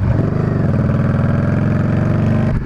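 Harley Davidson 48 cruiser motorcycle engine running loud and close, a steady throbbing V-twin rumble held for a few seconds with a slight dip at the end.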